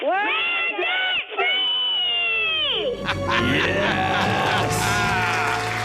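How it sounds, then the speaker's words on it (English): A family lets out a loud, sustained debt-free scream on a call-in radio show, several voices shrieking and cheering together, then the shouting tails off into crowd cheers. "Let's hear a debt-free scream."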